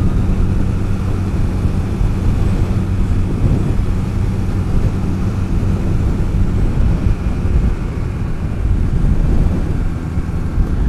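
Wind roaring past the rider of a Honda Rebel 250 (CMX250) motorcycle on the road: a loud, constant low buffeting rumble with an engine drone beneath, steady throughout with no talking.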